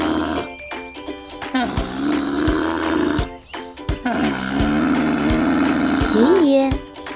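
A camel gives a deep, rumbling, snore-like roar, loud and close, in several long guttural bursts against a busy musical backdrop.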